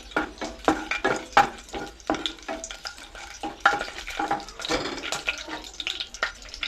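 Whole spices fry in hot oil: bay leaves, four dried red chillies, a piece of cinnamon, two cardamom pods and four cloves, crackling and sizzling up close with scattered pops and scraping stirs, no voice over it.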